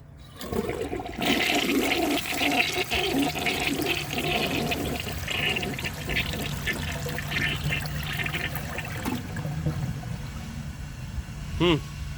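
A 1978 Peerless toilet flushing, a loud rushing surge of water that swirls and drains over several seconds and settles into trickling refill, with a person talking over it.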